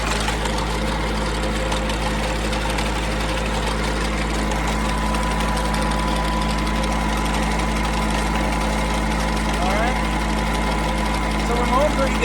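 A Massey Ferguson tractor with a Dyna Balance 41 mower runs steadily at a loud, close, constant engine drone while mowing, with mechanical vibration throughout and no pauses.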